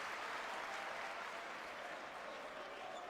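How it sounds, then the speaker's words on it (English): A basketball crowd applauds during a Pinar Karsiyaka versus Umana Reyer Venezia Champions League game, a dense, steady wash of clapping that fills the arena without a break. "the crowd responding to it"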